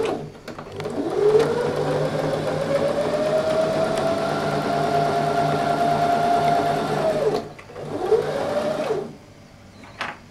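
Sewing machine stitching squares of patchwork fabric at the presser foot, a steady mechanical whir that ramps up, runs for several seconds and slows, then a second short burst of stitching.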